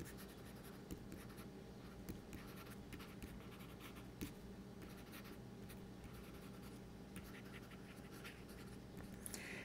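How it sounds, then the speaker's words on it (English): A stylus held at an angle writes on a Remarkable 2 e-paper tablet, giving a soft, continuous scratchy scribble with small ticks of pen strokes, close but quiet and steady throughout, with no talking. "this is what you get when you write at an angle"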